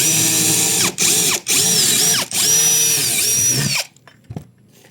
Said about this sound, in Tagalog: Brushless na Inco cordless drill.